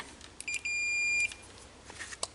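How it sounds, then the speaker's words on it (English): Digital multimeter set to continuity mode, bench testing a corroded start solenoid from a KLX110 dirt bike, giving a steady beep of about half a second among faint probe clicks. "Let's put our meter to beep if there's continuity."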